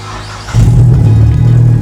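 After a quiet moment a car engine fitted with a rain gutter in place of its exhaust fires up abruptly and settles into a loud, deep, steady rumbling idle close by.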